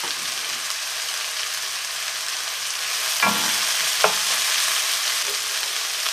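Garden vegetables and ginger stir-frying in a wok over high heat make a loud, steady sizzle, broken by two sharp scraping stirs partway through, with no voices.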